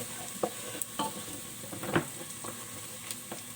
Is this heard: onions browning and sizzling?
yes